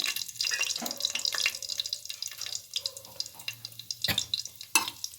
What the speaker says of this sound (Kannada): ಈಗ ಎಣ್ಣೆ ಬಿಸಿಯಾಗಿದೆ. ಚಕ್ಕೆ, ಲವಂಗ, ಏಲಕ್ಕಿ 3 ಹಾಕ್ತಾಯಿದ್ದೀನಿ.